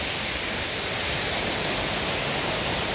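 A small but strong-flowing waterfall at Marleshwar in the rain gives a steady, dense roar of rushing water with no talking.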